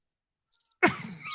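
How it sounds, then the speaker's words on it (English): Crickets chirp inside the Cow Palace arena: a brief burst of three or four quick chirps, faint and alone, followed abruptly by a louder broadband rush of sound. "Those were the crickets inside the Cow Palace."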